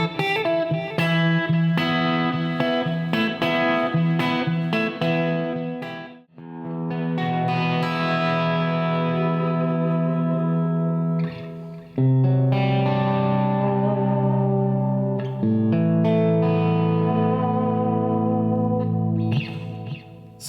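Epiphone Brendon Small Snow Falcon electric guitar on the neck pickup with a clean, chimey tone, playing sustained chords and picked notes over about twenty seconds, with short gaps and light effects, no talking.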